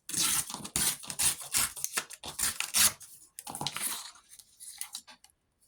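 Paper cut-out of a little mouse being torn by hand in a craft journal, a close series of crisp ripping bursts that trail off into quiet.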